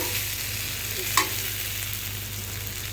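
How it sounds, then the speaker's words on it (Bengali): Potatoes and onions fry with ginger, garlic, turmeric and chili spice paste, a steady low sizzle running throughout, broken by one sharp scrape of a stirring spoon near the middle. "আদা আর রসুনের পেস্ট দিয়ে পেঁয়াজ আর আলু ভাজা নিলাম"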